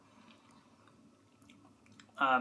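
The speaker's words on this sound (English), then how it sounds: "Even though these are small, they're not hard to chew." Someone quietly chews small Haribo gummy candies, mini rainbow frogs with a marshmallow base, producing faint soft wet mastication sounds close to the mic, ending in a louder crunchy burst.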